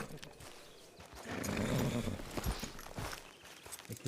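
A horse whinnies mid-clip amid hoof clip-clops and shuffling on a yard surface, fairly close, with a few muffled knocks and a voice nearby.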